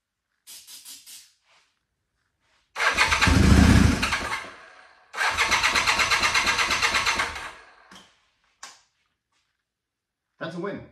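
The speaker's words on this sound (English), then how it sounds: "So it fires. It doesn't want to run, but it does kick over. Throw the choke on real quick." A Honda CB450T motorcycle with a fuel-system fault is kick-started with the choke on: light kicks, then two loud bursts where the engine fires and revs briefly before dying, followed by a couple of short knocks.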